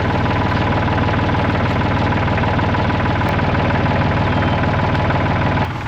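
A tractor engine idles and runs steadily at close range with a constant low mechanical drone and slight knock, while its bucket is used to press fence posts into soft pasture ground; no speech.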